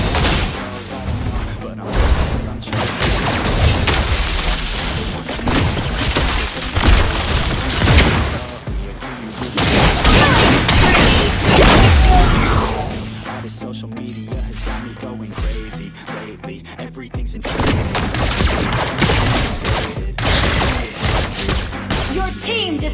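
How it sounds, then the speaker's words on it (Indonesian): Mobile Legends match with turret destruction, a dense run of booming impacts, crashes and blasts from skill effects, heavy and continuous across the whole stretch, with game voice lines and player chatter mixed in. "Your team destroyed a turret."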